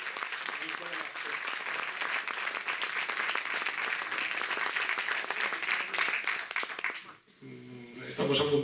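Sustained audience applause fills a cultural association's presentation hall, dense and steady for about seven seconds, then thins abruptly as a voice begins speaking.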